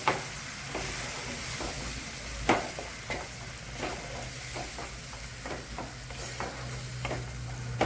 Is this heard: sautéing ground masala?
yes